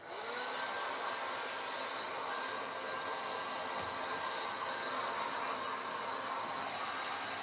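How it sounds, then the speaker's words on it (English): An industrial heat gun blows steadily and gently over wet watercolour paint on a poppy painting, a continuous close airy whoosh with a high whine that runs unbroken the whole time. "so I'm being quite gentle with my industrial heat gun"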